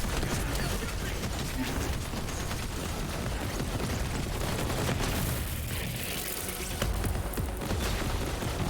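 Rapid bursts of cannon fire boom and rattle in Borderlands 3 during Moxxi's Heist of the Handsome Jackpot, a dense, loud, continuous barrage of gunfire filling the whole stretch with little letup.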